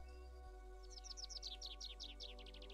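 Birdsong for relaxation: a run of bright, quick chirps repeats in a steady rising series over a low constant hum, moderately close and clear, with no voices.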